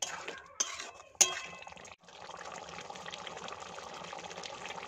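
Aloo dum curry, potatoes simmered in gravy, stirred in a pan on a low gas flame after the lid comes off, with a couple of sharp utensil clinks and a steady wet bubbling churn.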